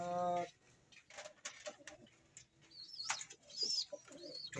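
Soft, faint cooing and rustling from a pigeon in a fancier's loft, heard as short murmurs and a few brief higher chirps in a quiet space.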